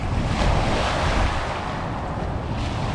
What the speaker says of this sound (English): the waves washing in here